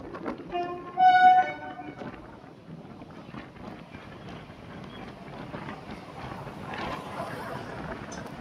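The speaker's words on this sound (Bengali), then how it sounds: "পাম্বান ব্রিজে দাঁড়িয়ে আছি, সামনে দিয়ে ট্রেন যাচ্ছে" A train rumbles steadily past on the Pamban sea bridge in the open amid gusting wind noise, with a brief burst of harmonic squeal or horn near the start.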